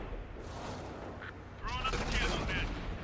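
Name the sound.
M46 Patton tank cannon firing in a video game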